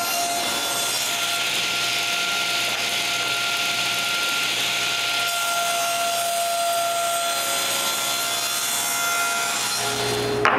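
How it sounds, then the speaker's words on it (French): A table saw whines steadily through wood for about ten seconds, a continuous loud cutting drone with a high ringing tone, winding down at the end. "je commence par monter ma lame de scie à bonne hauteur, puis ensuite je fais la coupe de chaque côté"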